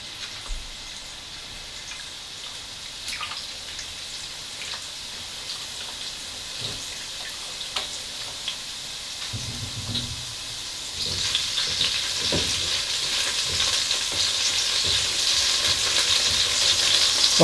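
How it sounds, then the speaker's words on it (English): Garlic frying in a pan, a steady close hiss and crackle of bubbling oil that grows louder and denser midway, with no talk. "You can hear it starting to bubble now."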